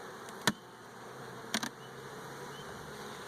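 Honey bees frosted with oxalic acid hum steadily in an opened hive, a faint continuous drone with a couple of sharp clicks and knocks from handling the frames.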